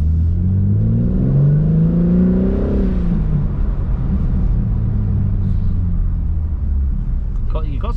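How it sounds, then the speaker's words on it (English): A new BMW M3 engine revs up and settles into a low rumbling idle, loud and close, with a rising then falling engine tone; a voice speaks briefly near the end. "got some turbo noises as well coming from the engine bay"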